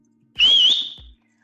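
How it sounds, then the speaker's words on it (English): A person whistles a single sustained tone with a slight rise and wavering pitch, lasting under a second, close and clear in an otherwise quiet room. "I learned to whistle at a very young age."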